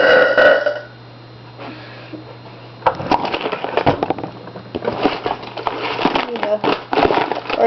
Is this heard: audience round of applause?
no